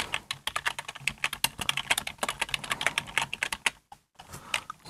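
A computer keyboard is typed on quickly, with close, crisp key clicks in a steady run, one short pause near the end and no speech.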